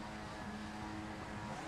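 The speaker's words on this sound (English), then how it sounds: "As we get ready to go, the revs are rising." Skip Barber race cars sit on the grid at Mexico City in iRacing, engines revving together before a standing start, a steady droning growl with a rising tone, held at moderate volume.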